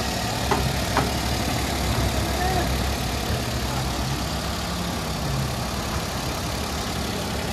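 The engine of a kei car minivan runs at a steady idle, a constant low rumble with a faint knock, with a couple of small clicks near the start and no clear speech.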